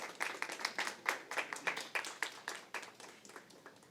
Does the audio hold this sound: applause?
yes